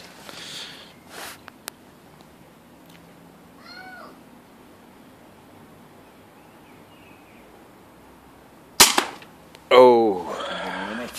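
A few sharp, isolated gun pops while shooting, with a cat meowing in between and brief voices near the end.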